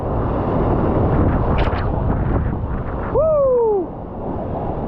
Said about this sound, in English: So much white water at the bottom 9